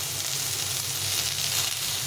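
Pumpkin greens and chopped vegetables frying in a pan, a steady close sizzle and hiss that carries on without a break and with no talking.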